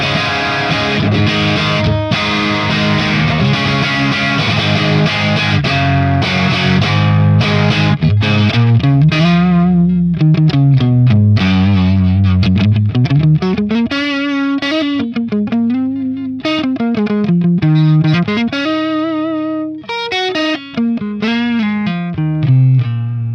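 An electric guitar runs through an Axe FX III modelling a Marshall 1987X 50-watt Plexi reissue on its treble channel, giving a loud, distorted tone that opens with thick sustained chords and moves into fast bending lead lines, with no talking.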